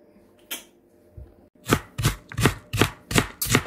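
A knife chops vegetables on a board in a home kitchen. After two isolated strikes come six quick, sharp, evenly spaced chops, close and loud.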